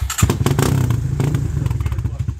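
A beginner's motorcycle engine runs in neutral after starting, a steady low rumble with rhythmic putters, close and fairly loud throughout with a bit of mechanical clatter.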